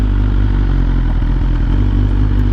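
A 2015 BMW R1200R motorcycle engine runs as the bike is backed in, a loud, steady, close idle with a low throb and a faint mechanical clatter.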